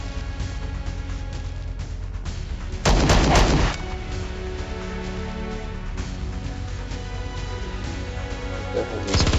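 Burst-fire gunfire in the Star Traders Frontiers space combat game, one loud cluster of rapid shots lasting about a second, standing out over a steady synthetic game soundtrack.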